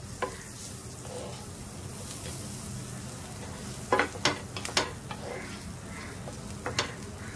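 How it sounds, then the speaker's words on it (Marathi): Crushed thecha sautés in butter on a hot tawa, giving a soft, steady sizzle with occasional sharp scrapes and taps of a spatula stirring against the metal. "थोडासा ठेचा परतवून घेऊया"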